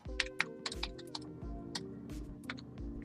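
Quick, crisp keystrokes clatter on a crunchy keyboard, irregular bursts of clicks close by over a faint tonal background.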